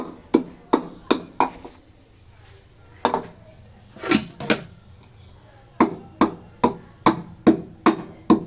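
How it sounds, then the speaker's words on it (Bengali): Roasted cumin is pounded in a hamandista mortar and pestle, giving bright, clinking metallic strikes in rhythmic bursts of rapid blows separated by short pauses. "এই যে আমি এটাকে হামান দিস্তায় পিষতেছি"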